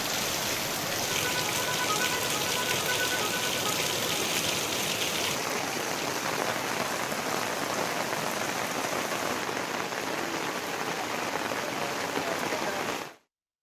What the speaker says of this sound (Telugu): ఇప్పుడు హెవీ రెయిన్స్ పడతా ఉన్నవి మన ఆసిఫాబాద్ జిల్లాలో